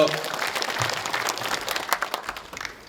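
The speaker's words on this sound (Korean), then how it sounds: "서경수 팀장님께 다시 한번 큰 박수를 부탁드리겠습니다" Audience applause at an apple growers' frost-damage prevention training session in Cheongsong, a brief burst of clapping from a seated crowd for a team leader, fairly distant and fading out.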